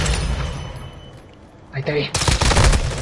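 Rapid automatic video game rifle fire erupts close and loud in the last second, following an earlier burst of shots, with a voice speaking briefly between them.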